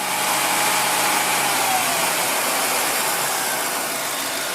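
A 2006 Dodge Dakota engine runs steadily close by, a continuous broad mechanical roar with no talking.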